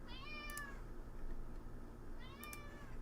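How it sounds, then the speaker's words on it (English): A pet cat meows twice, each call a rising-then-falling cry spaced about two seconds apart, close by and clear over a steady low background hum in an indoor room. "you guys might hear my cat coming in here in a second"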